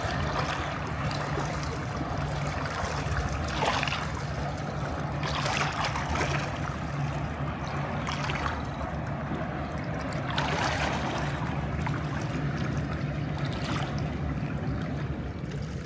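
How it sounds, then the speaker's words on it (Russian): Low, steady engine rumble of a river pusher tug barge passing on the river, with water washing and trickling nearby and rising swells of noise as it moves by; no one speaks. "От этой баржи или что это такое."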